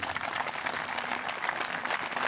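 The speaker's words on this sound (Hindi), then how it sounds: "ताली बजा दो" Audience at a temple gathering clapping together, a dense, steady patter of applause held at an even level from start to finish.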